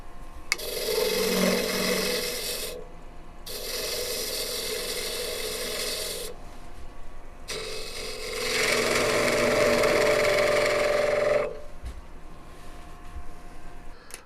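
A skew chisel used as a negative rake scraper on wood turning on a lathe, giving sustained rasping scrapes in three long passes separated by short pauses, close and steady.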